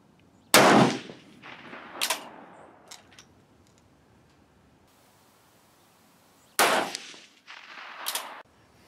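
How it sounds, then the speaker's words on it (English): Two sharp rifle shots fired through a rear diopter sight, about six seconds apart, each loud crack followed by a brief ringing echo and a smaller secondary report, with quiet between them. "Now I just wanna get a couple of shots in."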